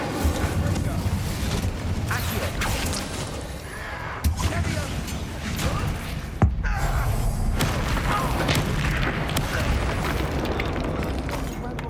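Incendio fire spell cast in Hogwarts Legacy, a loud bursting whoosh of flame with sharp pops near 4 and 6.5 seconds, layered over dense battle noise and game sounds throughout.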